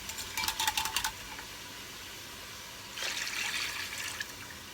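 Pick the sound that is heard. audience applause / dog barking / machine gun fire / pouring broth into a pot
pouring broth into a pot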